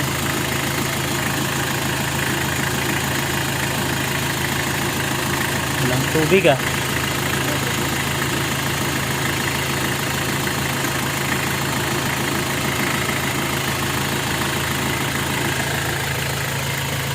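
The engine of a 2008 Mitsubishi L300 FB van idles continuously with a low rumbling drone, close by, while people talk briefly over it.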